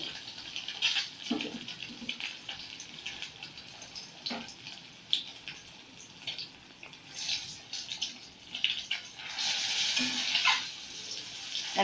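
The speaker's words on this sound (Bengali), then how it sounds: "এবার আমি ডিম দিয়ে দিলাম এবং ফ্লেমটাকে লো করে দিলাম।" An egg fries in a pan over a low flame, giving a soft, steady sizzle with occasional stirring scrapes and louder crackling bursts toward the end; no voices are heard.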